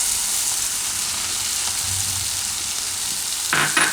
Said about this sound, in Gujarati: હવે એમાં આપણે નાખીશું કેપ્સિકમ,